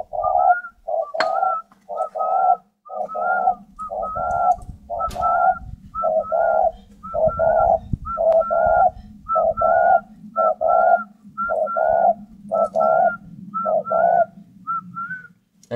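A breeding pair of hand-raised spotted doves coo in a steady series of soft, hollow phrases, about fifteen evenly spaced calls over a low continuous hum, close and clear with no talking.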